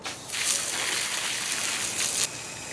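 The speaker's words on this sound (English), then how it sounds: "Time to fill up the water." Water pours into a chickens' water container outdoors, a soft, steady hissing splash that runs for about two seconds and then stops, leaving quiet background.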